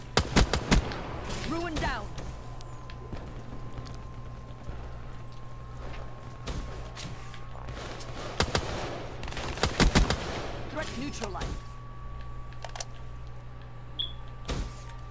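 Rifle fire from an M14 in a video game cracks out in short bursts and single shots, loud and close, over a steady low background hum.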